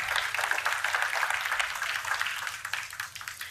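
Conference audience applauding, a steady dense patter of many hands clapping that holds strong and then begins to thin and fade toward the end.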